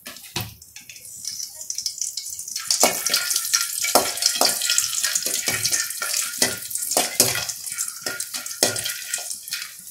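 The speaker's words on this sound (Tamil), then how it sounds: "இப்போ கொஞ்சமாக எண்ணெய் ஊற்றி சுண்ட வத்தல் பாருங்கள்" Dried turkey berries (sundakkai vathal) frying in a little oil for curry-leaf tamarind kuzhambu, a dense, continuous crackling sizzle with sharp pops and spatters close by.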